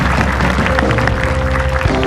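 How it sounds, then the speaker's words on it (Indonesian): A studio audience on a talk show claps, a short, dense burst of applause filling the moment with no talk over it. "Tepuk tangan."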